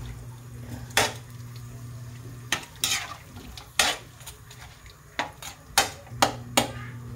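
Bicol Express being stirred in a cooking pot, a spoon knocking and scraping against the pot in irregular loud clinks over a low simmering sizzle and steady hum.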